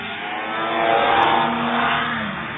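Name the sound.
racing hovercraft rounding the hairpin turn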